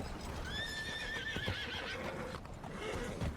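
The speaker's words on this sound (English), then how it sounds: "Look at those horses freaking out up there." Horses in the RedM WildRP role-play game whinny in a rising, wavering call, followed by hoof clip-clop and rustling at a moderate distance.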